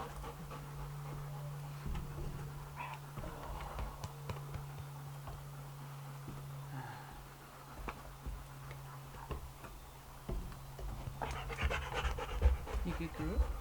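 A wet dog pants quickly and rhythmically close by, with a person talking softly over it and faint ticking sounds scattered throughout.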